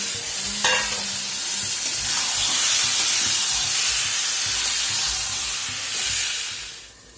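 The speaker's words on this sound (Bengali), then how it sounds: "এবার আগে থেকে নুন হলুদ মাখিয়ে রাখা মাংসটা আমি দিয়ে দেব" Salt-and-turmeric marinated meat hitting a pan of well-fried spice masala, bursting into a loud, sustained hissing sizzle after a brief clatter, then tapering off near the end with no voices.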